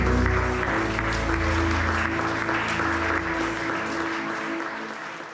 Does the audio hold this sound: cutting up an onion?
no